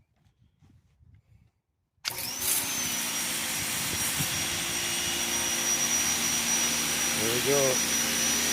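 Ryobi electric 2000 psi pressure washer with a jet nozzle fitted, starting after near silence and then whirring loud and steady at close range, with a short spoken remark just before it kicks on.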